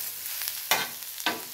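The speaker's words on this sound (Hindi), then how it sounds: "हमने इन मिर्चों को भी हल्का हल्का सा ऐसे इतना भूनना है" Green chillies and onions frying in a pan over medium-low heat, a soft steady sizzle with two sharper bursts as the pan is stirred, close by and without any talking.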